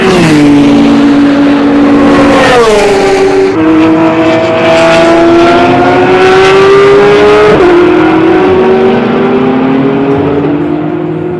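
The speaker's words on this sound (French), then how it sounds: "Donc un tour de circuit à bord de cette Porsche GT3." Porsche 911 GT3 R race car (991 generation) lapping a circuit, its engine screaming loud and close throughout, with rising revs through the gears and sharp pitch drops at each upshift, no voices.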